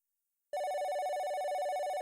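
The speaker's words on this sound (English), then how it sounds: "As I was walking home, my cell phone went off." A cell phone bursts into ringing after half a second of silence, a loud, steady electronic tone with a fast pulsing warble that continues without pause, heard alone.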